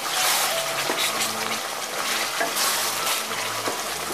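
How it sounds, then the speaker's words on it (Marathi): Fish curry masala frying in oil over medium heat, a steady close sizzle and crackle with faint stirring, no voices. "बघा आता आपले मस्त तेल सुटू राहिलेले आहे मसाल्याला"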